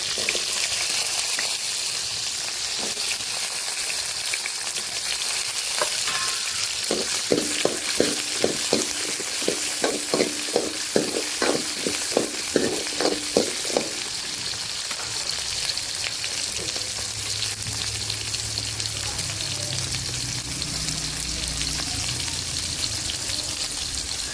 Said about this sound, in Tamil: வெங்காயம், பூண்டு 2 போட்டு நல்லா வதக்கணும்.